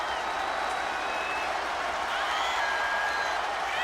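A live crowd at a WWE 2K25 wrestling match applauds and cheers in a steady, dense wash of noise that holds evenly for several seconds.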